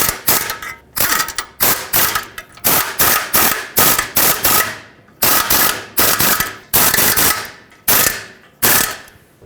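A hand ratchet snugs catalytic converter bolts under a 2013-2020 Nissan Pathfinder in loud, close bursts of rapid clicking, about a dozen short strokes with brief pauses between them.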